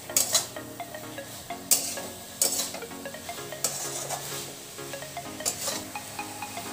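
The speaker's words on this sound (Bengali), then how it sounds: "চানা ছোলা দিয়ে আমি 5 থেকে 7 মিনিটের মতন কষিয়ে নেব।" Boiled chickpeas being sautéed in a pan for dhaba-style chana masala, with bursts of sizzling and repeated scraping, stirring clinks of a utensil against the pot throughout, close and moderately loud, no talking.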